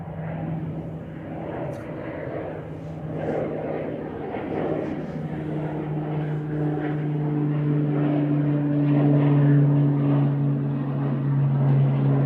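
A yellow Pilatus propeller aircraft flying at Manchester Airport, a steady droning hum that grows louder toward the end, under a faint voice.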